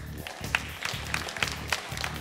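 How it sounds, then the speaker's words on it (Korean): Applause for the winning team at a KartRider esports match, a faint, brief patter of scattered claps from the crowd over a low background hum. "박수와 함께 축하해 주시기를 부탁드리겠습니다."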